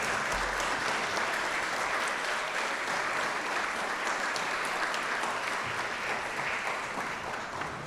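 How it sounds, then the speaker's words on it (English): A dinner audience at a fellows' closing event breaks into steady, full applause, dense and sustained for several seconds with no talking over it. "Give yourself a round of applause"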